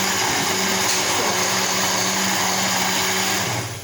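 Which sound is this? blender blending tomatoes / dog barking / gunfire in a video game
blender blending tomatoes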